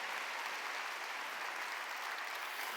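Steady, dense clapping from a church congregation during a Wednesday service, sustained and uniform throughout, with no talk over it.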